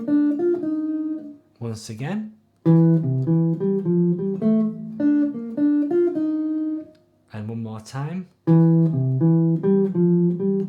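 A jazz guitar back-cycle turnaround line, a run of clean single notes moving through a dominant and tritone-substitute changes, played alone several times with short pauses between repeats and brief spoken cues in the gaps.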